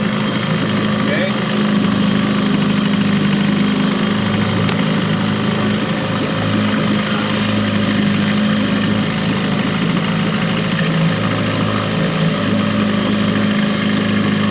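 Evinrude 4 hp Excel outboard motor running in a water test, giving a steady, buzzing mid-pitched drone that idles evenly for the whole stretch with a faint voice underneath.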